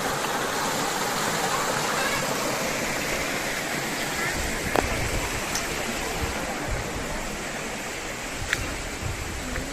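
Small waterfall at Bua Tong Sticky Waterfall park in Chiang Mai, with a steady broadband rush of falling water and children playing in the pool. The wash is continuous and close, with a couple of faint brief knocks and voices mixed in.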